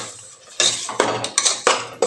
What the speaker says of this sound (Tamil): நான் பச்சை பட்டாணி போடுறேங்க.